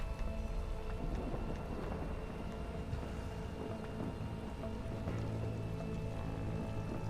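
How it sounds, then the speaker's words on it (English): Steady rain with low rumbling thunder during a storm in the city-building game Against the Storm, a continuous dense wash of sound throughout. "During a storm, no less."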